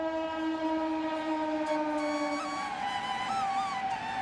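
A train horn sounds near a railway station in long sustained tones, steady and fairly loud, with rumbling rail noise underneath and a shifting whistle-like pitch near the end.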